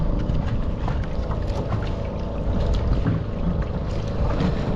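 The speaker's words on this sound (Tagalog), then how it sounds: "ayan naman po yung mga bangka na yun, oh, yung mga taga Davao, taga Socorro" Wooden fishing boats (bangka) on the open sea near Socorro, a continuous rumble of water and engine noise mixed with wind buffeting the microphone, steady and fairly loud throughout.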